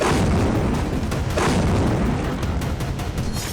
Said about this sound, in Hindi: इजराइल पर बीती रात लगातार हमले होते रहे और मिसाइलों के धमाके होते रहे